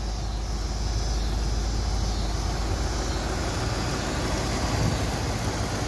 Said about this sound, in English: The engine sounds smooth as heck though.